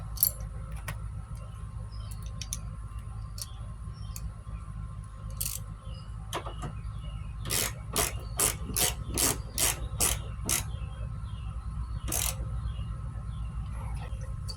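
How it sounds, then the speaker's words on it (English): Ratchet wrench tightening bolts on a car headlight during a DIY headlight upgrade, with scattered clicks early on and then a close, rapid burst of about ten crisp ratcheting strokes, followed by a final few clicks. "I'll finish up the bolts on the side."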